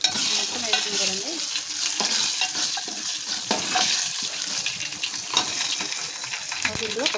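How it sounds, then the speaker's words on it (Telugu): Dried red chilies, cumin and garlic crackle in hot oil for a tempering for dal with tomato, a busy close sizzle with stirring and occasional pan clinks, while someone speaks intermittently. "అలాగే ఎండుమిర్చి, జీలకర్ర, తాలింపు కూడా వేసేసుకోండి."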